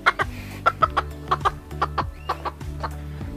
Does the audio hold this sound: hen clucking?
yes